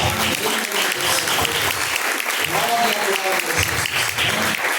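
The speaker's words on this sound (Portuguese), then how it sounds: "Receba, irmã, palmas, louva" A church congregation applauds during a live worship service, rhythmic clapping mixed with voices and what sounds like music underneath, steady and fairly loud throughout.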